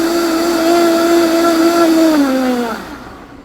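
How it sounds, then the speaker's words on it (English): Vitamix commercial tabletop blender pureeing raw hot pepper mash with seeds, a loud, steady high motor whine that holds for over two seconds, then slides down in pitch and winds down as it shuts off. "Vitamix turns this into pure liquid."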